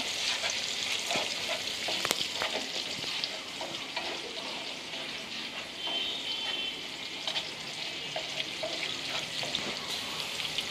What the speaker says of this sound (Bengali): আমি ডিমটা ভালো করে ভেজে নেব তেলের মধ্যে।